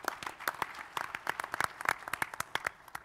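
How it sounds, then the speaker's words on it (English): Scattered hand clapping from a small audience at a live business pitch event, a handful of sharp, uneven claps close by for a few seconds with no talking. "Round of applause for Rick."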